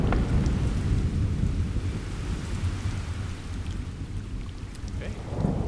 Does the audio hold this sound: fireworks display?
no